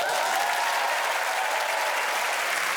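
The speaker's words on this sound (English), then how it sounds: "Please give another round of applause for tonight's winner, Ed Gamble." A studio audience applauds steadily for the winner at the end of a Taskmaster episode. The clapping is dense and sustained from start to finish, with a faint crowd murmur beneath it.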